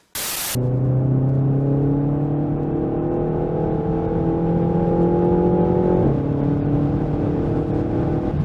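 A Renault Mégane 4 RS engine is held at full throttle, revving hard and loud after a brief opening burst, with a sustained rising howl that dips once near the end as a gear changes.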